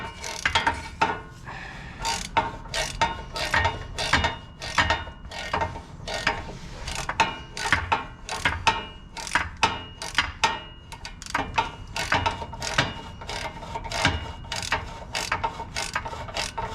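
A ratchet wrench clicks in repeated quick bursts while loosening a nut on a 2001 Mazda Miata six-speed transmission, each swing giving a rapid close ratcheting rattle with short pauses between strokes.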